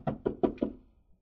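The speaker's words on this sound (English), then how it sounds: "Knock on the door, Dave." Four firm knocks on a door in a radio drama scene, evenly spaced and close, with a short quiet tail afterward.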